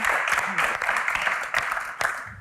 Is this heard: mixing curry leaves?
no